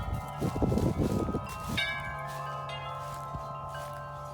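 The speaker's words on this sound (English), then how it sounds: "And the wind chimes are good too." Wind chimes ring on a windy day, a few metallic strikes followed by long, sustained tonal ringing that slowly decays, with some rustling at the start and no talk.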